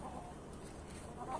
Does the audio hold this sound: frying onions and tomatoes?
no